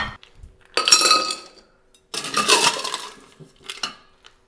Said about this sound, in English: A little bit of ice.